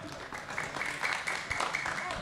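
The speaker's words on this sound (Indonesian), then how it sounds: "Tepuk tangan dong." Audience applause at a talk on the future of transportation in Indonesia: a steady, dense wash of clapping runs the whole way, moderately loud, with voices mixed in.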